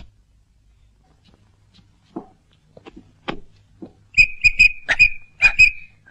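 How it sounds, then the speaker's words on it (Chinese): A repaired toy whistle gives several short, shrill toots in quick succession, close and fairly loud, after a few faint taps and fiddling noises. "我这个哨子吹不响、啊。 我给你修修。"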